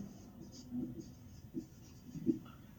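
Pen scratching on paper while a maths solution for a class 9 real-numbers exercise is written out, soft brief strokes in a few short bursts, faint and close.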